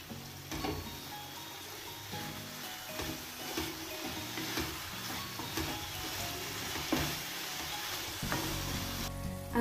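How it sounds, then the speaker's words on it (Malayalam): Beef pepper roast being stirred in a hot pan, with a steady sizzle of frying meat and the repeated scrape and clatter of a spoon through the thick mixture, continuous and close. "ഇനി ഇത് നന്നായിട്ടൊന്ന് മിക്സ് ചെയ്തെടുക്കാം."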